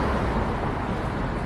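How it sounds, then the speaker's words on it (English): A noisy city bus drives by, giving a loud, steady, broadband rumble that fills the whole moment without a break. "There's our bus. She's very noisy."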